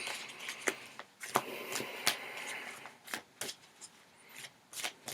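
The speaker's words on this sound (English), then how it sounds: "Just gotta shuffle till they feel right." Legacy of the Divine Tarot cards are shuffled by hand, giving quiet, irregular papery slaps and riffles that come in uneven bursts close by.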